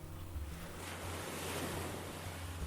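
Ocean waves crash and surge continuously, with a steady roar of surf, rumbling low wash and some wind buffeting the microphone; no voices.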